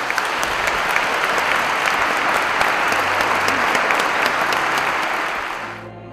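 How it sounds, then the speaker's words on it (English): Sustained applause from a church congregation at an Easter celebration, welcoming new members. Dense, even clapping continues for several seconds and then fades out at the end. "The newest members of the Church were then presented to the faithful amidst applause."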